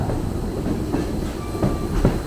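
An East Tennessee dinner train rolls along its rails with a steady loud rumble and rhythmic clickety-clack of the wheels, heard up close from on board.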